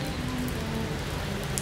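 Steady overnight rain in Da Lat falls as an even, close hiss of drops on surfaces with no pauses, heard alone.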